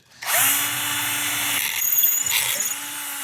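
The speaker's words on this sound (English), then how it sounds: "We need to drill that all the way through." A power drill runs steadily with a high whine while drilling through metal on a Volkswagen Golf R, its pitch dipping briefly as the bit bites, then continuing until it stops near the end.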